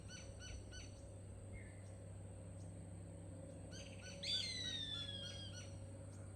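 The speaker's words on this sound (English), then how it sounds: "Here's gray hawk." A recorded gray hawk call, a single long, clear, descending whistle, played over soft background bird chirps and a low steady hum.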